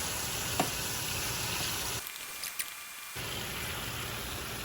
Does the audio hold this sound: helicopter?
no